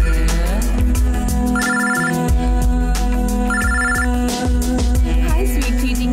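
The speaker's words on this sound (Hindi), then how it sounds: "रिंग हो रहा है।" A telephone rings in two distinct bursts of bell-like trills, loud and close, over a steady musical background.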